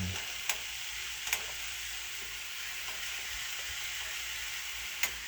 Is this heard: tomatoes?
yes